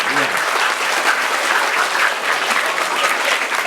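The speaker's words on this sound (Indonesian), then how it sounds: "Mohon tepuk tangan untuk para penarinya." Junior high school audience in Bekasi applauding student dancers, a loud continuous crowd of clapping close and steady throughout, with faint voices mixed in.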